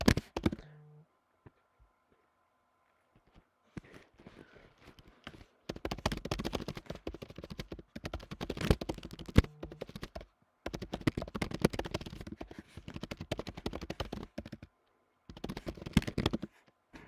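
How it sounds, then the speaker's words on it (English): Rapid, soft clicking of keys being typed on a computer keyboard, in bursts with short pauses, fairly close and quiet. "Sorry if there were loud typing sounds."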